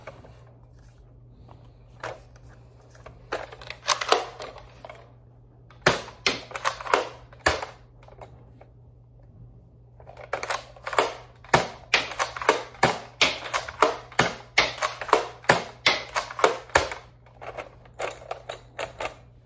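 A Nerf Elite Disruptor blaster is loaded and slam-fired with foam darts, producing sharp mechanical clacks and pops that come in sparse groups at first, then in a rapid, close series, over a faint steady hum.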